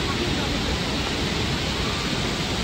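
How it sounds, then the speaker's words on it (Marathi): Roaring water at Devkund Waterfall swollen with heavy flow, a loud, dense, unbroken rush that fills the whole clip at close range with no letup. "पाण्याचा फ्लो आणि पाण्याचा आवाज, किती भयंकर असा आवाज."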